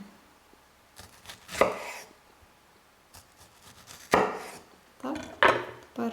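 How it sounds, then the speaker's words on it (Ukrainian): A knife slices through a strawberry in a few separate bursts of short cutting strokes, close and crisp, with quiet pauses between them and no talking. "Беремо одну полуничку і отак її надрізаємо."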